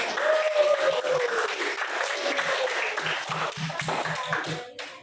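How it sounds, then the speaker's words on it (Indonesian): A classroom group claps for the first group, a steady wash of applause lasting several seconds with distinct individual claps emerging toward the end before it stops. "kita beri dulu aplaus untuk kelompok 1"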